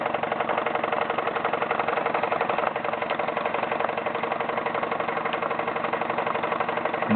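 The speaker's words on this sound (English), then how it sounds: "Engine running nicely at the moment" A Wilesco D21 toy steam engine running smoothly, its rapid even chuffing and mechanical whir steady and close for the whole stretch, with no voices.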